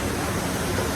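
Kjosfossen waterfall at Myrdal, Norway, roaring as a dense, steady broadband rush of falling water, close and loud, with no break or change across the short moment.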